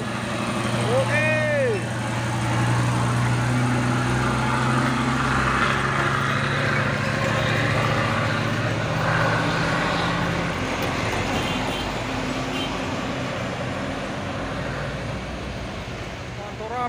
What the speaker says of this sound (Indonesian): Waduh, ramai kali truk-truk yang mau nanjak sama pasukan truk pus oren.